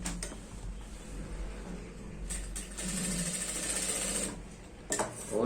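A sewing machine runs steadily while stitching a girl's skirt, its close, even mechanical whir continuing with brief pauses and restarts.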